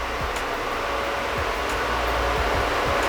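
Loud, constant broadband whir of many server cooling fans and machinery in a data center, a dense steady hiss filling the space with faint clicks beneath.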